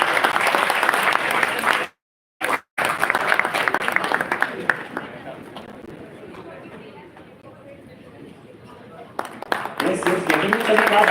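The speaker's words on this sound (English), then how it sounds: "Everybody, please give a big round of applause" Loud, dense audience applause fills a conference hall at an HR conclave, breaking off briefly for a moment before resuming. It fades to a quieter patter and then swells again near the end, with crowd chatter mixed in.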